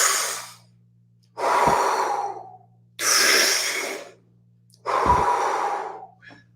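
Deep Wim Hof–style belly breaths, drawn in and pushed out in four long, loud, even waves about a second and a half each, close to the microphone with short silences between them and no talking.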